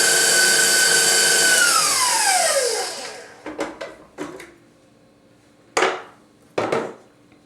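An electric mixer whirs loudly while beating key lime pie cupcake batter, its motor pitch sliding down as it winds to a stop, followed by a few clunks and knocks.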